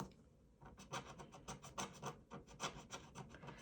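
Lottery scratch-off tickets are scraped in a quick series of short rasping strokes, close and fairly quiet, in an uneven rhythm with brief pauses and no talking.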